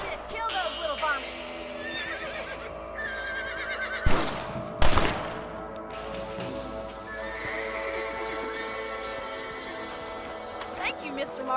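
Horses in the Red Dead Redemption video game neigh and whinny over a busy game soundscape with hoof clip-clop, two sharp loud bursts mid-way, and voices talking throughout.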